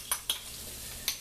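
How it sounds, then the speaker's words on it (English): Onions stirred in a hot pan for fried cabbage, a few quick scraping stirs over a faint steady sizzle, close and fairly quiet. "And it's time to add the onions. Give them a quick little stir."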